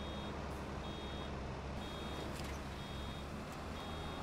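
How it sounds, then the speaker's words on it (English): A baler's chamber-full warning buzzer in Farming Simulator 25, repeated faint tonal beeps over a loud, steady machinery drone. "We have a little warning buzzer that tells us, hey, your bale chamber is about full."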